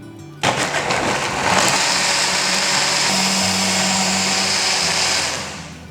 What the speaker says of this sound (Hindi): इसे मिक्सचर में ग्राइंड कर लेते हैं।